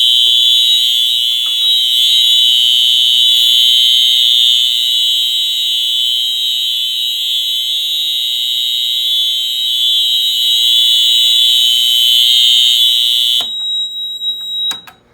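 A smoke detector sets off a fire alarm during a fire alarm system test, a loud, steady, piercing electronic tone that holds unbroken for about thirteen seconds before cutting off abruptly, leaving faint residual beeps.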